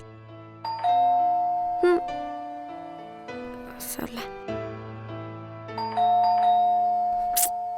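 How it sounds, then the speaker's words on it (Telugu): A doorbell rings with a melodic ding-dong, sounding twice a few seconds apart, clear and close, while people talk indoors. "ఎవడే ఇంతలా కాలింగ్ బెల్ కొడుతుంది?"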